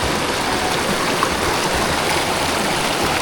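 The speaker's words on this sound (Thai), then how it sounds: "น้ำไหลใสดีคักพี่น้อง" Clear water rushing steadily through a hillside stream near mountain rice fields, a loud, close, unbroken babble with no voices.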